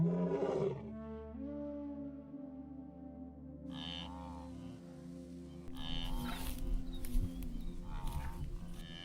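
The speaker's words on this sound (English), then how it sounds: "A deep and dense sound spreading across the open Serengeti is the clearest sign of an adult male lion." An adult male lion roars on the open Serengeti grassland, a deep drawn-out bellow followed by further low rumbling calls, strong and resonant with no speech over it.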